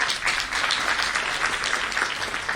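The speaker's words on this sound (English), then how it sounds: "Let's have a huge round of applause." Audience at a business school induction programme applauding a speaker, steady, dense clapping throughout, close and fairly loud, with no talking.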